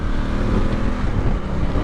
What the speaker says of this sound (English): Sounds nice, pop pop bang bang on the standard exhaust.